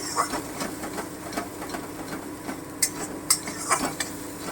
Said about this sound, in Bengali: বাটাটা দিলাম একটু নেড়ে নিচ্ছি